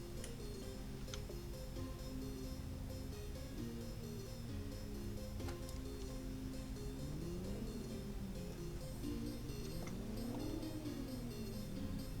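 Car engine revving in the City Car Driving game, a low steady drone with pitch rising and falling in two swells, faint and constant underneath, with occasional small ticks.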